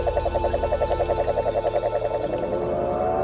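A cane toad (Bufo marinus) calls nearby in a loud, fast, pulsing trill of evenly spaced notes, holding steady for about two seconds before stopping, with a faint chorus of other calls behind it.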